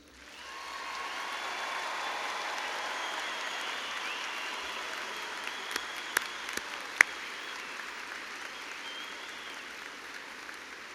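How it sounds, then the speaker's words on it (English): Sustained applause from a large audience in a university graduation arena, swelling in and holding steady at moderate distance, with a few sharper claps and whistles standing out near the middle. "Please join me in a round of applause for our graduates."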